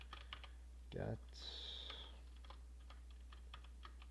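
Fingers tap quick, light clicks on a computer keyboard in bursts of keystrokes, faint against a low hum, while a voice briefly speaks near the start.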